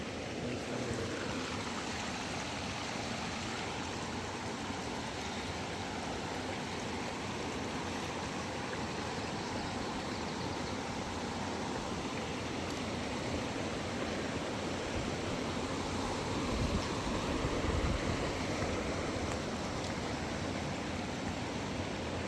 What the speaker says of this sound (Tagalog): Parang sobrang relaxing pag narinig mo yung agos ng tubig.